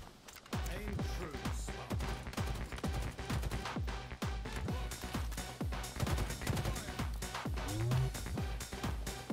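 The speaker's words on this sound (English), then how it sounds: "A gun somewhere" Rapid, evenly spaced gunshots crack out continuously in a Halo Infinite match, loud and close for several seconds.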